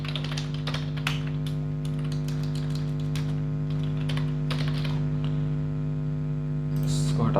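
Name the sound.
typing a value on a computer keyboard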